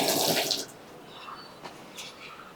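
Running drinking water tap for students at a school, a splashing gush of water at the start that quickly drops to a faint trickle with small drips, close by.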